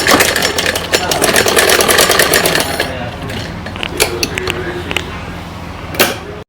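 An electric sewing machine runs fast in steady bursts, stitching a folded hem seam on a child's cotton night suit, loud and close for about three seconds before slowing to sparse clicks and a faint hum.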